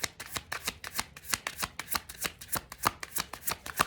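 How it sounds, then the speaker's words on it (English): Tarot cards are shuffled in a quick, steady run of crisp riffling bursts, about four per second, close and fairly loud with no talking. "I shuffled these cards"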